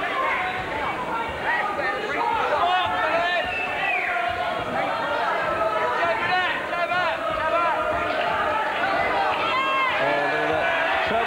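Crowd at a boxing match, Colin Dunne vs Phillip Holiday: dense, continuous roar of chatter and shouting from a large arena audience, loud and steady throughout.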